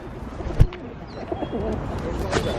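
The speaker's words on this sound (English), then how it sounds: "and you can feed the pigeons." Pigeons coo softly in a Dublin city park amid crowd chatter and background bustle, with a sharp close knock near the start and a faint bird chirp later.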